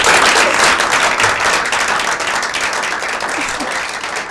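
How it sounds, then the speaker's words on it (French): Loud burst of crowd applause, dense clapping filling the whole moment and fading slightly toward the end. "Applaudissements pour l'Ovatonic"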